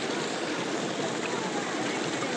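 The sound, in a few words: small river stream flowing at campsite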